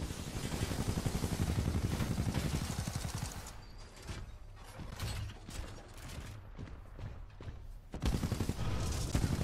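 Rapid, dense gunfire from the shooter game Titanfall rattles loudly and continuously. It eases into quieter action midway, then bursts back at full intensity.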